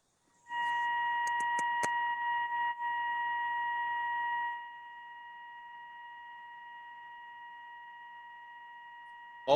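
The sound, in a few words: ringing beep sound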